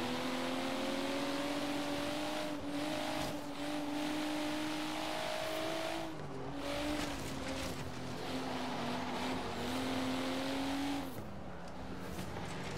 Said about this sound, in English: Spinning them tires, boy!